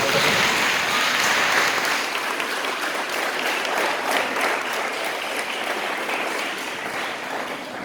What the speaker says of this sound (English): may I ask all of you all to give a big round of applause for